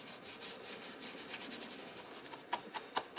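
Paint being rubbed over matte medium on a paper surface, a soft, close, continuous rasping scrub in quick repeated strokes, fairly quiet and with no talk.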